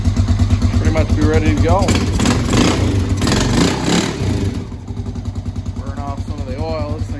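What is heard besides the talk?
Polaris Sportsman 500 ATV engine running after new carburetor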